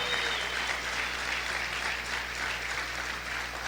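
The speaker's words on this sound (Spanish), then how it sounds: "Aplaude fuerte a tu Dios." A church congregation applauds loudly and continuously, a dense, even roar of many clapping hands filling the room with no talk on top.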